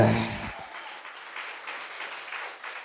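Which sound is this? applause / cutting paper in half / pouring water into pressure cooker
applause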